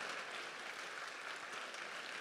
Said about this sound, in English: One more time, big round of applause to the volunteers.